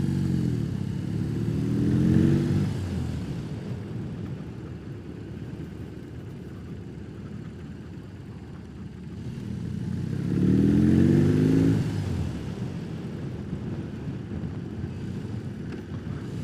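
A 2021 BMW R18 with its big horizontally opposed boxer twin pulls along the road, a deep rumbling drone that swells twice as the engine revs up under acceleration, close and steady with wind rush behind it.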